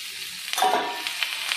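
Chicken pieces hitting a hot pan with fried onions, setting off a steady close sizzle with soft crackles and a brief stirring scrape midway, no voices.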